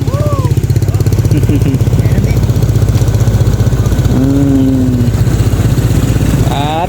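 Farm tractor engine running nearby, a loud, steady low putter with a fast regular pulse that holds throughout, with brief voices calling over it.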